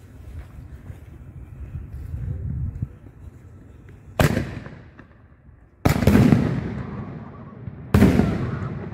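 Bangin Blue canister shell fireworks burst outdoors in three sharp, loud explosions with crackling tails, spaced a couple of seconds apart, over a low rumble of wind.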